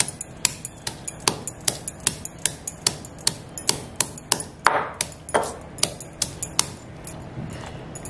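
Ginger and chillies are pounded coarsely in a mortar and pestle, a steady run of about eighteen sharp, ringing strikes at a brisk even rhythm, close and clear with no talk.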